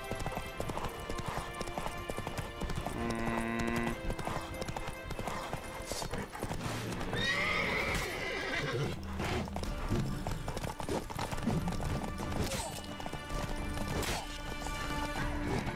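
A horse gallops with quick, steady clip-clop hoofbeats and neighs once in The Witcher 3 video game, loud and close throughout amid game sounds and music.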